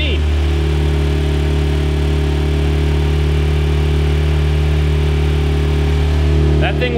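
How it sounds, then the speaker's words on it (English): A turbocharged Mazda Miata engine runs at a steady idle nearby, a loud, even drone with a constant hum and rushing air noise, while someone talks over it. "I never really realized how much air this turbo pushes out."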